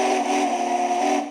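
A DCC decoder on a homemade model 2-6-6-6 Allegheny locomotive sounds a steady, sustained horn-like whistle tone, loud and close, holding for over a second before tapering off.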